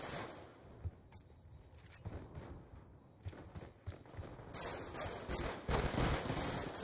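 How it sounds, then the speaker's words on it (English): Shooter-game gunfire crackles in dense, rapid bursts through a busy, steady background mix with no clear talking over it. "I'm actually shooting the person"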